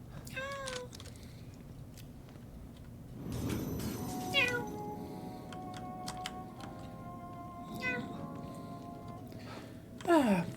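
A cat meows several times in The Evil Within 2, short rising calls near the start and again midway and at the end, over a low game ambience with tapping or key-like clicks and a faint voice in places.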